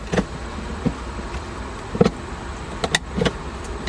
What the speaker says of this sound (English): First sound you have to hear, the gated shifter.